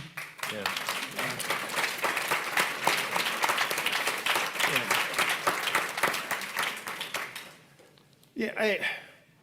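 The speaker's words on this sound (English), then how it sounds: "I appreciate the applause." Audience at a Juneteenth celebration lecture breaking into warm, sustained applause, dense clapping for about seven seconds that tapers off, followed by someone speaking again.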